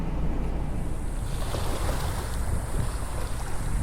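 Ocean waves wash in with the incoming tide along the Florida shore, a continuous close rush of surf mixed with wind buffeting the microphone.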